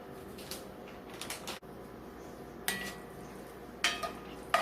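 Corn kernels stirred in hot oil in an oven-safe skillet over medium-high heat, a low steady sizzle with a few sharp scrapes and clinks of the spoon against the pan.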